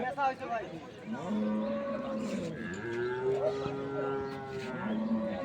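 At Ambari cattle market in Dinajpur, a dairy cow gives long, drawn-out moos close by. People talk in the background throughout.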